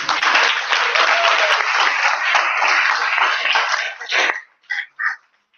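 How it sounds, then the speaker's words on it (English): Audience applause for a presentation at an SW Timisoara event: dense, steady clapping from a sizable crowd for about four seconds, then tapering into a few last scattered claps before it stops. "a round of applause for Fit at Home"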